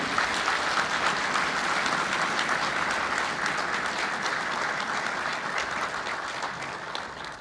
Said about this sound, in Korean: 다시 한번 힘찬 격려의 박수 부탁드립니다